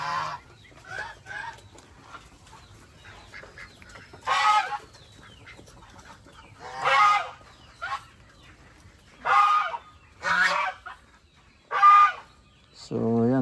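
Geese and turkeys honk and call in a farmyard in a series of separate, fairly close calls spread out with short quiet gaps, about eight bursts in all.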